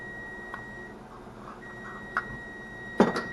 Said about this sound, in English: That was the stove timer going off